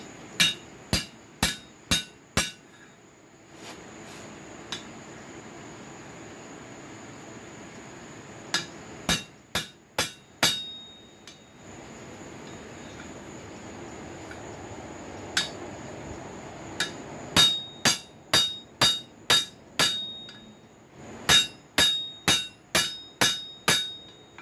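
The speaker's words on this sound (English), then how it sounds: "I'm just putting the rivet in." A steel rivet is driven into cold slot jaw tong blanks with a hammer, giving sharp metallic blows in quick runs of several strikes, separated by short pauses and ringing close and clear.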